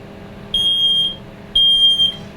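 A smoke detector alarm blares in a bedroom, two loud, piercing high-pitched beeps about half a second each, separated by a short gap, over a quiet room hum.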